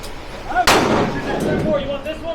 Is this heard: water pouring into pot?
no